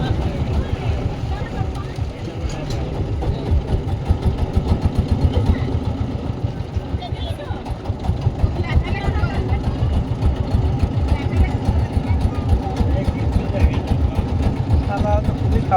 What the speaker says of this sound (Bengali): এই নৌকা আবার কিভাবে ঢুকাচ্ছে?